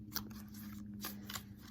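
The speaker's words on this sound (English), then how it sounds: "And I generally shuffle until the cards fly out." Tarot cards being shuffled by hand in a quiet room, three or four short crisp riffling bursts close up, soft overall with a faint steady hum underneath.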